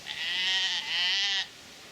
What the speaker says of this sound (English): The neighbour's sheep are out again.